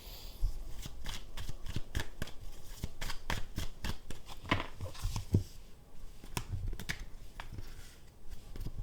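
Tarot cards are shuffled by hand in a steady run of crisp, close riffling flicks and snaps that continue for several seconds with no talking.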